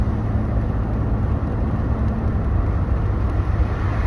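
A 2013 Ford F-150 STX with a 3.7L V6 accelerating, heard as a steady, loud low engine drone and road rumble that holds evenly throughout, with no voices.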